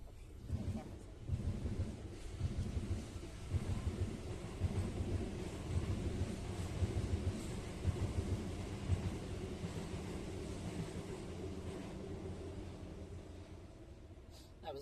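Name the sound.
passing train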